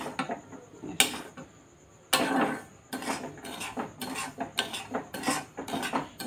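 Semolina stirred and fried in a pan with ghee for a semolina sandesh dessert, heard as a run of close, rhythmic scraping bursts of a spoon against the pan, with short pauses between strokes.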